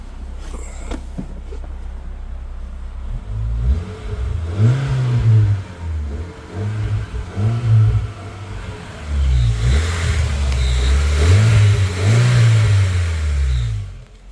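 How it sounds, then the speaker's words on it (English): A 2010 Honda Fit GE8 on lowering springs with an HKS exhaust, idling and then blipped repeatedly, several rising and falling revs in quick succession, close and loud with a moderate exhaust note. "Not too loud, but it sounds a little better and aesthetically pleasing."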